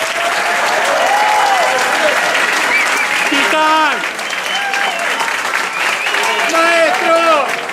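Loud, sustained audience applause for a history teacher at a teacher-training institute event, with cheers and shouts rising over the clapping throughout; a voice calls out partway through.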